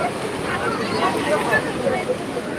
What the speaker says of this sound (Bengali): এই দেখো এই ঢেউ ঢেউ এলো ঢেউ এলো এই জল এলো জল এলো